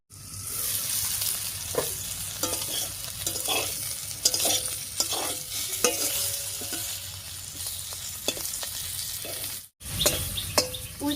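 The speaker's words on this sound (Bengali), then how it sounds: "উল্টে পাল্টে তারপরটা বেশ লাল লাল করে ভেজে নিয়েছি" Slices of spiny gourd fry in a pan with a steady, close sizzle and crackle, broken by occasional stirring scrapes and clicks as they are turned, with faint birdsong in the background and a brief dropout near the end.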